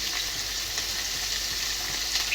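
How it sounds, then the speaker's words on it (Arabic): Onion and garlic frying in hot oil for kabsa make a short burst of even, close sizzling hiss with a slight rise at the very end. "نزل نزل نزل نزل نزل نزل بصل وثوم"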